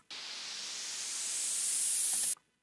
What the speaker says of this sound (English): Then we've got this white noise riser.